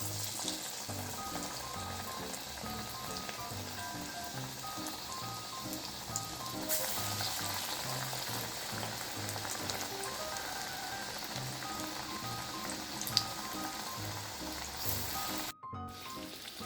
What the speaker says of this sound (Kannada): ಆಮೇಲೆ ಕಲರ್ ಸ್ವಲ್ಪ ಬಣ್ಣಕ್ಕೆ ಬರೋ ತನಕ ಕರಿಬೇಕು